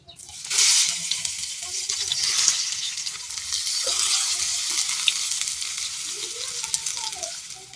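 Leaves laid one by one into hot mustard oil in a wok sizzle and spit steadily, a close, continuous frying hiss with small pops and crackles and no talking.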